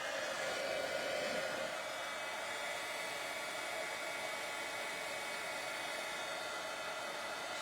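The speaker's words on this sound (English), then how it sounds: "And then pull in the heat tool. So this is what we call white embossing." A heat tool blows steadily on cardstock during white embossing, a continuous faint airy whoosh like a small hair dryer, slightly stronger at first and then even, with no talking.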